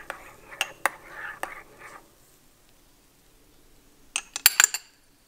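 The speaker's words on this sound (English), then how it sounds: "I always stir my cappuccinos" A spoon clinks quickly against a cup while stirring sweetener into a foamy cappuccino from a Philips 3200 LatteGo machine. A cluster of sharp clinks comes near the end, after soft rustling and faint murmuring at the start.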